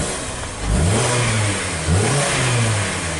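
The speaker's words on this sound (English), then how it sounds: "Alright, the car is running." A 2016 Kia Sorento engine runs close by, revving up twice with rising pitch and settling back between, no voices over it.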